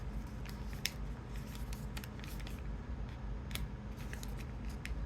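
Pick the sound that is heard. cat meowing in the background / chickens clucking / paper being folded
paper being folded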